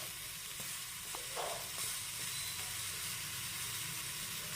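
Chopped tomatoes frying in oil in a pan, a dense continuous sizzle and hiss with a few faint stirring clinks, steady and fairly close throughout.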